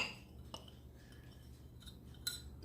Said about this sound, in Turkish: İyice çırpıyoruz.